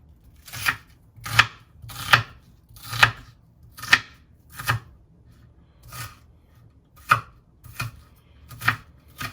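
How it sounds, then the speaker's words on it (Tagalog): A knife slices through canned fish against a cutting board, making about a dozen crisp, evenly spaced chopping strokes that sound close and clear over near silence. "So I'm gonna slice it like this is how I do it."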